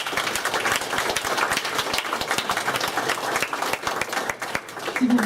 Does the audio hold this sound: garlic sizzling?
no